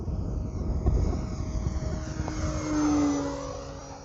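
E-Flite Piper Cherokee RC plane on a 3S battery making a full-throttle speed pass, a buzzing electric motor whine rising and falling in pitch as it passes by, with wind noise.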